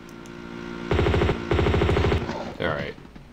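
Rapid bursts of video game gunfire in Tomb Raider 2, two loud sustained volleys of repeated shots in quick succession, followed by a brief trailing clatter.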